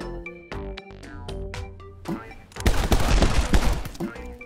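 Bursts of rapid gunfire in the My Friend Pedro video game, split shot firing at two targets, a dense loud fusillade in the second half after sparser sounds and music.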